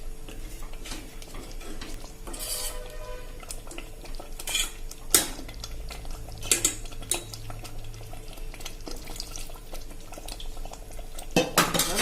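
Cluster beans curry being stirred and mixed in a metal pressure cooker, with repeated scraping and clanking of a spoon against the pot over a soft bubbling simmer, loud and close throughout.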